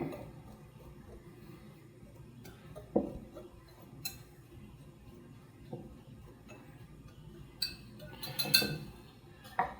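Baking powder, baking soda and salt for flourless, sugarless cast-iron skillet cornbread are stirred in a bowl, giving scattered light clinks and taps of a utensil against the dish over a quiet background.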